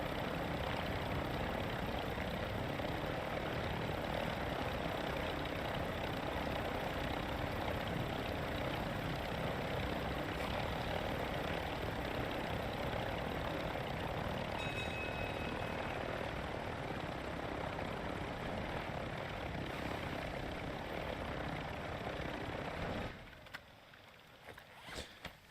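A helicopter in the video game DMZ drones on with a steady rotor and engine roar, continuous and fairly loud, then cuts out abruptly near the end with a few faint clicks.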